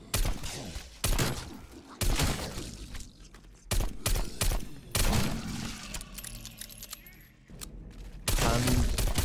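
Heavy pistol shots in Call of Duty Cold War Zombies boom in repeated bursts, each blast loud and punchy, with clattering and thuds between them and some faint voices.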